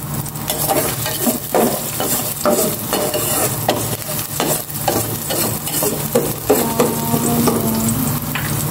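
Garlic fries in a little cooking oil in a pan while being stirred, a loud, steady close sizzle with repeated scraping strokes of the utensil and no talking.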